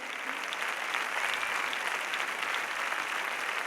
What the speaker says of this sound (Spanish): el público aplaude puesto en pie